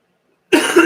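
One short, close, loud cough breaks out suddenly after a moment of silence.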